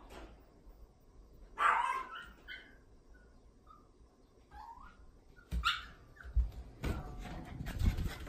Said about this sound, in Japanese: ずっとね吠えてる声が聞こえるんですよ